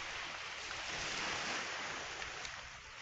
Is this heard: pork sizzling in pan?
no